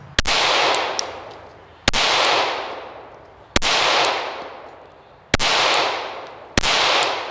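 Five loud, evenly spaced rifle shots from a gun fitted with a Zulisy Owl C green dot sight, each a sharp crack followed by a long ringing decay, close by with no talk.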